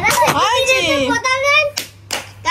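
Children clap their hands a few times in quick bursts near the end, following excited high-pitched children's chatter that fills most of the moment.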